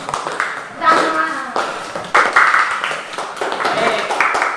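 Classroom students clapping for a presenting group after a science lesson, bursts of hand claps in uneven waves with some chatter and a teacher's voice mixed in, close and fairly loud.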